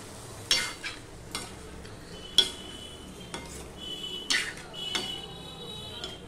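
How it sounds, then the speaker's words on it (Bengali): Fish head and mixed vegetable curry stirred in a pan, with a few scattered scrapes and clinks of a spoon against metal over a low background hiss, fairly quiet. "এবার সম্পূর্ণটা মিশিয়ে দিচ্ছি"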